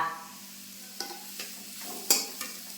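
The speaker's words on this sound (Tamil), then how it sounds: "அதை எப்படி சேர்த்துக்குவோம் இதை மாதிரி நல்லா வதக்கிக்குவோம்" Ridge gourd peel sautés in a pan with a soft, low sizzle, broken by a few sharp clicks and scrapes as a spatula stirs it, close and quiet.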